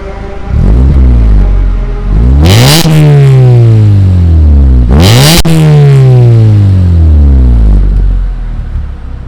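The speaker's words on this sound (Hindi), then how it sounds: "भाई आप रेव करो एक बार इसका।" A modified Maruti Swift with a BMC air filter revs hard twice, each blip climbing to a loud peak and then falling away. It is close and loud over a steady idle, and no one speaks.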